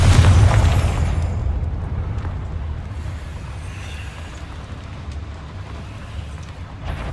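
A Confringo fire spell explodes in the video game Hogwarts Legacy, opening with a heavy, loud boom that fades into a long, low rumble.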